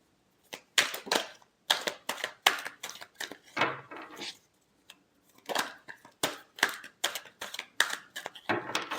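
Tarot cards are shuffled in rapid crisp riffling bursts separated by brief pauses, close and fairly quiet, with no voices.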